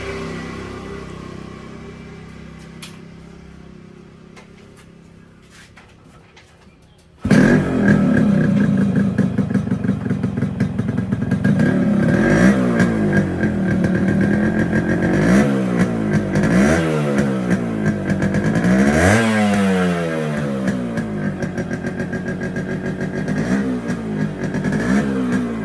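A Yamaha RX100 motorcycle with its original stock silencer and muffler sits near-silent for several seconds, then fires up loudly and revs repeatedly, the two-stroke engine rising and falling in pitch between idle stretches.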